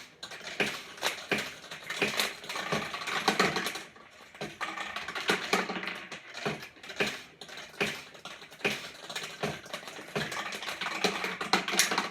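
A vintage Daiichi pachinko machine runs with rapid metallic clattering and ratcheting of balls and mechanisms, busy irregular clicks and rattles close by with brief pauses, no talking.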